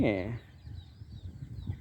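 An egg-laying hen in a backyard flock gives one short, loud cluck right at the start, followed by quieter low murmuring that sounds like speech.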